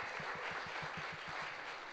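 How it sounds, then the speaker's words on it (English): A quick round of applause at a live-streamed client forum for a working group standing up; the clapping is dense and even, with a rhythmic low thumping beneath it, at moderate volume. "just give them a quick round of applause."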